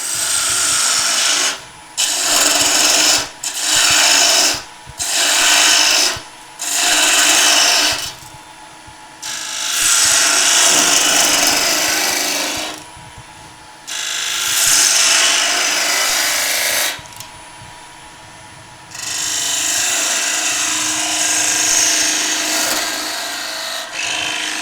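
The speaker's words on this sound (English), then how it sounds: "using the spindle gouge here, I'm just going to create that another little cove" Wood being turned on a lathe with a spindle gouge to cut a small cove in a wooden table lamp: loud, close, broadband scraping and hissing cuts in short bursts at first, then longer sustained passes with brief pauses between.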